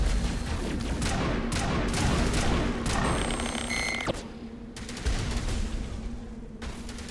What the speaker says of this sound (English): Stop shooting the Mako!